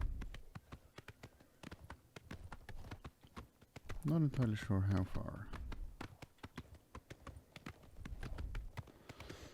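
An armored horse in Oblivion Remastered trots along with steady, rapid hoofbeats on open ground, someone talking briefly over the clip-clop midway, the hooves continuing evenly before and after.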